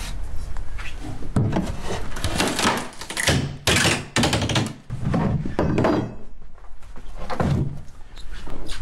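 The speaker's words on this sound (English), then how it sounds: "we'll start removing some of the boards" Old wooden deck boards are pried loose and pulled up before new cedar decking goes down, giving close, irregular thunks, knocks, creaks and scraping wood sounds in bursts with brief pauses.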